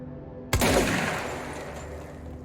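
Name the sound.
shotgun-form Service Weapon gunfire in Control video game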